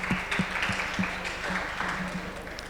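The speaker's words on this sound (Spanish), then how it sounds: "Se pueden dar un aplauso. Dense un aplauso." Audience applause in a church-style teaching session, a steady wash of clapping throughout with a few low voices and thumps mixed in, moderately loud and continuous.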